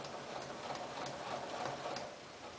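A sewing machine understitching an undercollar seam on a rolled collar: steady, fast mechanical ticking and whirring that runs throughout, close and even, easing slightly near the end.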